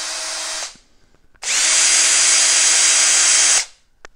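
A RIDGID cordless drill on a brand-new battery pack whirs briefly, stops, then runs again at high, steady speed for about two seconds before winding down, loud and close.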